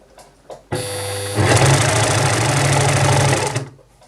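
An overlocker sewing machine stitches around a fabric corner, whirring up after a few soft clicks into a loud, steady buzzing run for a few seconds before stopping.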